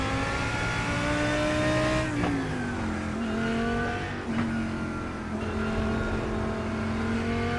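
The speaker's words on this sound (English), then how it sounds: "faster car approaching." Race car engine in the iRacing simulator during a wet IMSA race, a loud sustained drone that shifts pitch as gears change, with a faster car closing in behind.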